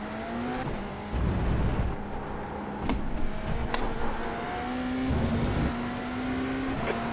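BMW LMDh prototype race car lapping Magny-Cours in the iRacing sim, a steady high engine drone that climbs through gears with repeated shifts and brief throttle lifts, loud and continuous with no talk.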